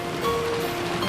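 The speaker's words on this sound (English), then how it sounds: "The inside of the room was commanded by the stillness of the sound of the rain." Steady rain from the Umineko visual novel game patters on a surface in a brief, even wash, with no voices.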